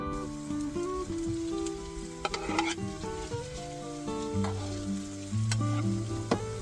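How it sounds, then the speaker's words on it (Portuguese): Cut potatoes fry in a pan with a steady, dense sizzle that swells and settles, a few light spatters breaking through, all under prominent tonal music. "Vamos fritar as batatas"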